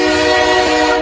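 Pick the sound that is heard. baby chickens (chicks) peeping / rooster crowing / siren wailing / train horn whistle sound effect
train horn whistle sound effect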